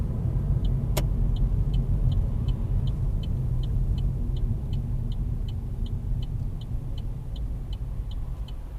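A car pulls up at the roadside during a driving test in Kingsthorpe, Northampton, heard from inside the cabin: a constant low engine and road rumble, a single sharp click early on, then the indicator ticking evenly throughout.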